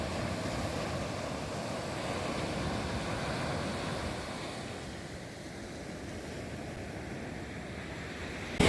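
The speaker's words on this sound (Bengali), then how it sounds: "এখানে এলেই এত ঢেউয়ের তাণ্ডব দেখতে পাবে" Ocean surf on Bakkhali sea beach, West Bengal, roars continuously in a broad, rumbling wash, with wind buffeting the microphone and no voices.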